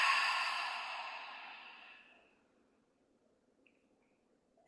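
A long, soft exhaled breath during a qi gong twist, a broad airy rush that fades away over about two seconds, followed by near silence and a faint click at the end.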